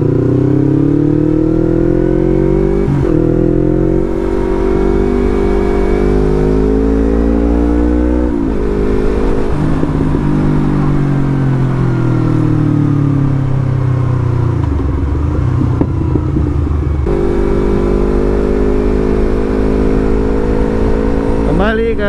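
A Yamaha MT motorcycle engine drones steadily while riding, its smooth, rounded tone rising and falling with shifting revs, loud and continuous throughout.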